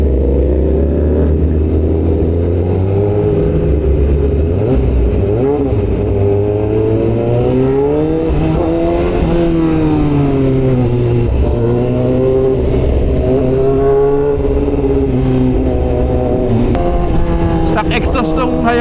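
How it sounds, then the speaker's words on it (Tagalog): A Suzuki Hayabusa motorcycle's exhaust idles and revs steadily throughout, a low throbbing engine note close by, with voices talking over it. "Exhaust ng Hayabusa kaya tahimik eh."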